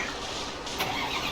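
In a Malayalam KSRTC bus video game, the bus engine cranks and strains to start, giving a continuous whirring churn that rises briefly partway through.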